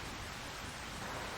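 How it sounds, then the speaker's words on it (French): Rain in the Farming Simulator 25 video game, a dense steady hiss of falling water, uniform and fairly loud, with no talking. "je crois qu'il pleut. Ouais, il pleut."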